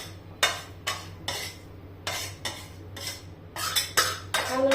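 Jaggery papdi mixture made with edible gum is scraped and tapped into a ghee-greased metal plate, a steady series of clinking spoon-on-steel knocks, getting quicker near the end.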